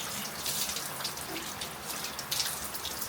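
Water poured and splashing while a dog is bathed at a kennel, a steady faint wash of running water with scattered drips and patters throughout.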